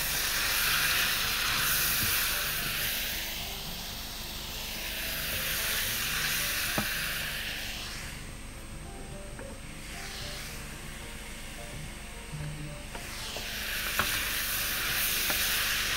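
Hot peppers and liver fry in a pan with a steady, close hiss and crackle of sizzling oil. The sizzle swells and fades in slow waves as the food is stirred, with no talking.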